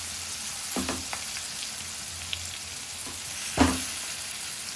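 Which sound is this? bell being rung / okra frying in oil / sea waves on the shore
okra frying in oil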